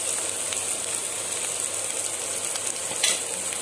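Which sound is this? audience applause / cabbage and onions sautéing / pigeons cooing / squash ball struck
cabbage and onions sautéing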